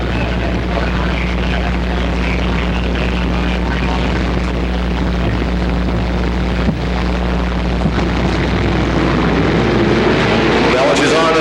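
Super late model stock cars roaring on an oval race track as a restart comes through turns 3 and 4, a loud continuous engine drone with a commentator talking over it.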